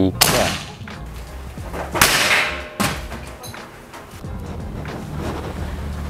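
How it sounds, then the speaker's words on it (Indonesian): A PCP Fusion 2560 air rifle with a classic brown double-tube and manometer is fired in an accuracy test, giving a few sharp cracking shots with short pauses between them, close and loud, with no voices over them. "tes uji akurasi dari senapan PCP Fusion 2560 double tabung klasik coklat plus manometer"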